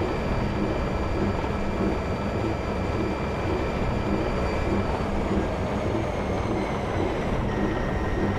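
A train in the Trainz railway simulator video game rolls past in a steady, loud, continuous rumble with a high whine over it, close and unbroken throughout.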